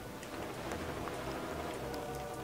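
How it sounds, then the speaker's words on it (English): Steady rain falls throughout in the game The Legend of Zelda: Wind Waker HD, a dense, continuous hiss of raindrops with no talk over it. "now it's freaking raining again"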